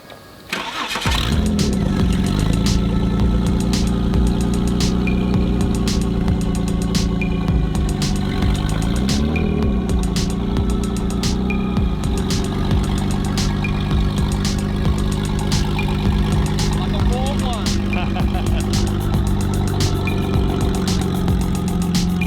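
A car that has sat unused for about two months cranks and fires up, then settles into a loud, steady idle with a rough, slightly uneven rumble that continues for over twenty seconds, close to the microphone with no talking.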